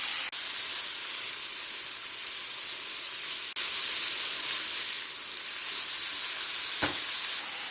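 Vegetables sizzle steadily while being stir-fried in a pan with stir-fry sauce and soy sauce for a veg momo soup, a continuous loud hiss with one brief stir or clatter near the end.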